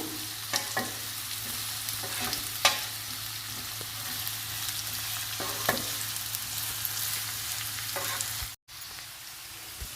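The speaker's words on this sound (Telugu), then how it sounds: "కరివేపాకు, అన్నీ 1 నిమిషం వేయించుకుందాము" Curry leaves and spices fry in a pan for a healthy meal maker and egg onion curry, giving a steady close sizzle with a few scraping stirs and clicks. No one talks.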